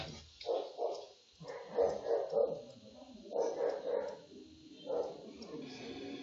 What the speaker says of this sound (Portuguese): minha cachorra tá latindo lá pra caramba